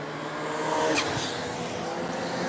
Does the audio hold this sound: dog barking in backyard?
no